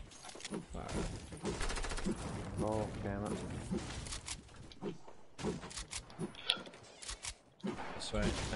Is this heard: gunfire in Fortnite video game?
yes